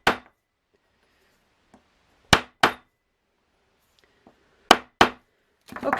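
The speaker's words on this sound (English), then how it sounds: "I'm going to make it really domed and then come back to it, tap it down a bit" A hammer taps a copper heart pendant into a domed shape for enamel jewellery: sharp, close metallic strikes, mostly in pairs with pauses between them, ending in a quicker flurry of blows.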